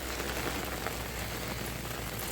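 Heavy rain falls in a forest, a dense, continuous patter and hiss of drops that stays steady and evenly loud throughout, with no voices.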